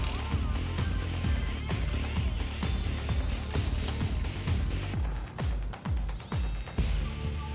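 A ratchet clicks in quick repeated bursts while tightening the rocker arm nuts on a 1973 Buick Century engine, a close, steady run of sharp pawl ticks with short pauses between strokes and no talking.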